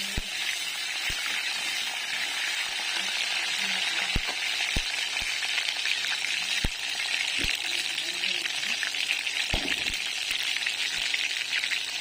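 Panch phoron and slit green chillies sizzle steadily in oil left from frying fish, a continuous loud crackle with occasional sharp clicks of a spoon against the pan.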